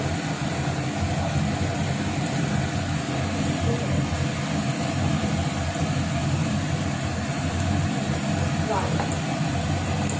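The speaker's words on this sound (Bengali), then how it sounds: "প্লাস চিমনি চলছে।" A kitchen chimney exhaust hood runs continuously with a steady, even, broadband whooshing drone, while a voice talks over it.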